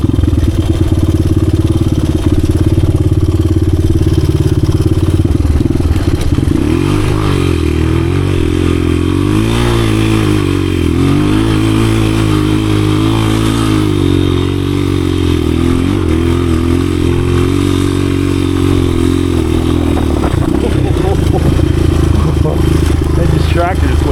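A 1986 Honda XR200R dirt bike is ridden off-road in first gear. The engine is loud and close throughout, with rising and falling revs and some clatter, and a rider's voice is mixed in.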